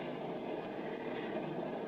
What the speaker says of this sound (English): I wish this train would move a little faster.